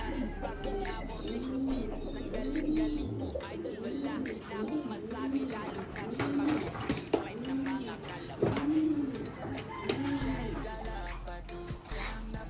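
A racing pigeon gives a repeated soft, low cooing in a steady rhythmic series of throaty phrases. A person speaks over it in a quiet setting.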